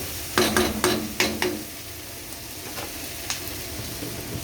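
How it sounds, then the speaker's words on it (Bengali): Fish head curry being stirred in a pan, several sharp scraping knocks from the spatula early on over a soft continuous sizzle that then carries on quietly alone. "ভালো করে নেড়ে চেড়ে নিয়ে"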